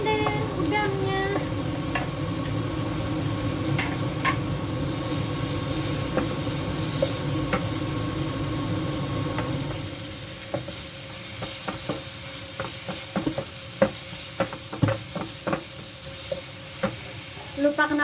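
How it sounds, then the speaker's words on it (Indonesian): Shrimp fry in a pan on a home stove, a steady close sizzle with intermittent stirring scrapes and clicks of the utensil, the sizzle dropping away partway through while the tapping continues. "Terus masukin deh udangnya."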